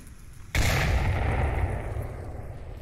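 A grenade goes off in the VR shooter Onward during a competitive match: a sudden loud, close blast after a brief quiet moment, followed by a long rumbling decay that slowly fades.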